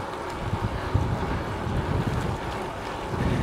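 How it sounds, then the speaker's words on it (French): Strong wind buffets the microphone steadily during long-distance ultra cycling, a dense, loud rushing roar with gusty swells and no voices. "c'est surtout le vent qui est très dur"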